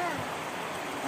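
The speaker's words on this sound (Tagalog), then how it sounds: "inabot na naman kami ng ulan ng malakas" Heavy rain pours over a rural village house, a dense, steady roar of broadband noise that stays loud and even throughout the brief stretch.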